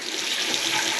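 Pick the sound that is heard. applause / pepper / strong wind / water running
water running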